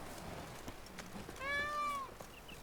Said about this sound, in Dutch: Er zit ook alweer een panter namelijk.